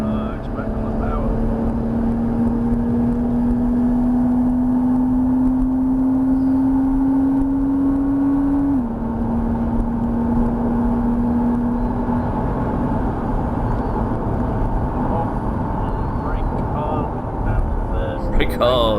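From inside a racing car on the Thruxton circuit, the engine drones steadily and climbs in pitch as it accelerates, drops at a gear change, then pulls on, with a voice talking over it.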